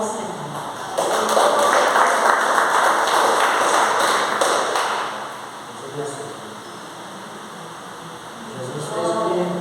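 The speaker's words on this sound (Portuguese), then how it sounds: "as palmas são do Senhor." A church congregation at an Assembleia de Deus service bursts into loud, dense clapping for several seconds, then fades to quieter sparse claps and someone speaking.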